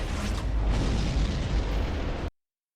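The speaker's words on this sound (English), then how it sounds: "Ooh, that's explosion." An enemy blowing up in the mech combat game Armored Core 6: a loud, dense, roaring blast that fills the whole stretch with rumbling debris and cuts off abruptly at the end.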